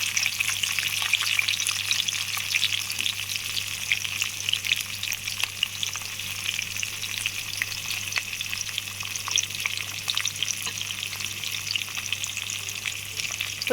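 Onions, green chillies, ginger, mustard seeds and cumin frying in a pan for upma, a steady hissing sizzle that runs unbroken throughout with faint stirring scrapes and no voices.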